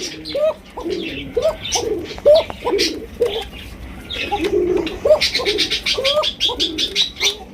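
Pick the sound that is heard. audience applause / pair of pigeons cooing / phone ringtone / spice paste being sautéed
pair of pigeons cooing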